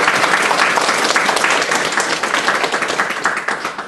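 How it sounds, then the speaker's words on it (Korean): An audience at a Korean community lecture gives welcoming applause for an introduced guest, a loud sustained roar of many hands clapping, close and steady, easing slightly toward the end. "환영의 박수 부탁드립니다"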